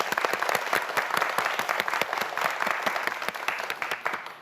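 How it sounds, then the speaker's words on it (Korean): Steady, sustained applause from a studio audience on a television science quiz show, many hands clapping at an even, full level throughout. "장성현 학생을 위해서도 큰 박수 부탁드립니다"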